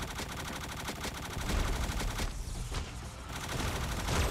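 Rapid video-game gunfire from FRAG Pro Shooter, dense repeated shots and bursts filling the whole stretch at steady loudness, with no talk.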